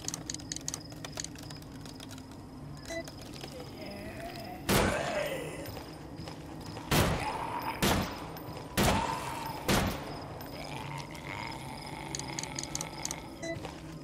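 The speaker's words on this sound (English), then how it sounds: "That's the first time I pop a head with a pistol." Pistol shots in the survival horror video game Them and Us: five sharp, loud cracks come at irregular intervals, each standing out above a constant murky game ambience with faint scattered clicks.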